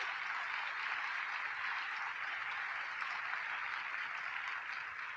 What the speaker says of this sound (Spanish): Démosle el aplauso a la palabra divina.